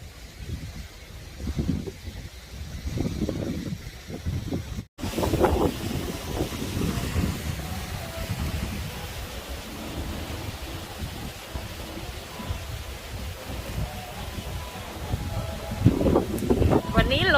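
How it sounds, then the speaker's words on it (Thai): Strong wind buffets the microphone on a cruise ship deck near the Bahamas, a continuous loud rumble with gusts and one brief dropout, while someone talks over it. "ลมแรงมากนะคะวันนี้"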